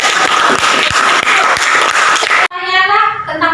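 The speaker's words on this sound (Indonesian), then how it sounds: "kita kasih tepuk tangan dulu" Class applause for a student group presentation, loud dense clapping that stops abruptly, followed by a voice speaking.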